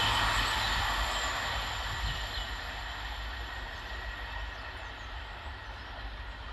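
A pair of coupled South Western Railway class 444 electric trains passing through Hinton Admiral station, a steady loud rush and hum of wheels and motors that slowly fades as the trains move away.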